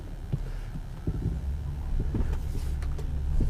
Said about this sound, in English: So here goes to our first test drive out the lot.